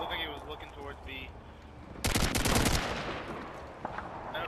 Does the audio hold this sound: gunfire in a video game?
yes